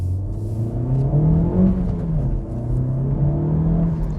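Engine of a Honda Civic FK8 Type R revving, a loud, close, droning rumble that swells and dips steadily throughout, with no talk.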